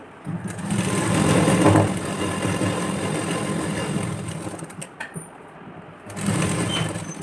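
A sewing machine runs steadily at close range, stitching the lining onto the main fabric of a padded blouse sleeve at a half-inch seam, with a brief pause before resuming.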